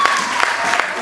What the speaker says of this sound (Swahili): Makofi kwa Bwana Yesu.